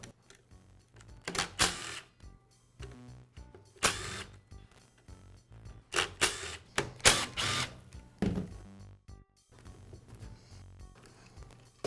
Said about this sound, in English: I'll begin by removing the end cap.